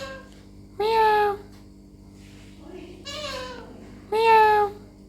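An Alexandrine parrot imitates a cat's meow, giving three clear, close meows spaced a second or two apart, each with a rising then falling tone.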